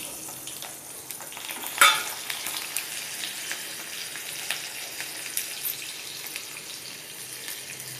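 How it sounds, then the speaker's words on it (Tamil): Garlic and curry leaves sauté in hot oil for a garlic kulambu, giving a steady, close sizzle and crackle throughout, with a brief sharper spatter or stir near the start and no talking. "கருவேப்பிலையும் ஆட் பண்ணிடலாம். இப்போ நல்லா வதங்கட்டும்."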